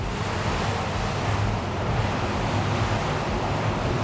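A SACS Rebel 55 open motor yacht running at speed with the throttle opened, giving a loud, continuous wash of water and surf mixed with heavy wind rush, steady and close throughout.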